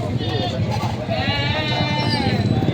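Large goats, including bucks being sold, bleat at a farm in a series of wavering, nasal calls over the second half, heard under steady nearby talk.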